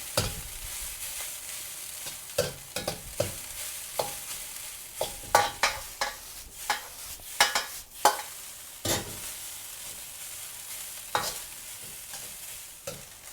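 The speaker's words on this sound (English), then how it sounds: "we're going to cook this rice thoroughly now for" Egg fried rice stir-fried in a pan, with a steady sizzle beneath repeated scraping and tossing strokes of a utensil, close and moderately loud, no voices.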